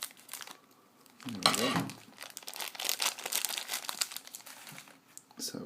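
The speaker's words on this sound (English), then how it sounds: "I'm just going to snip off the end of this bag here." Thin plastic toy bag snipped open and crinkled up close, a burst of crackling rustle with short pauses, and someone speaks briefly over it.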